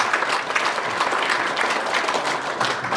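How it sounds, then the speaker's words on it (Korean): Audience applause at a lecture on the plastics industry, a steady wash of clapping from a seated crowd lasting a few seconds at moderate volume. "예, 박수 좀 한번 보내주시죠."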